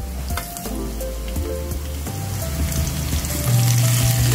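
Pork chop sizzling and frying in a hot pan, a steady close crackle with a few stirring scrapes, growing slightly louder near the end.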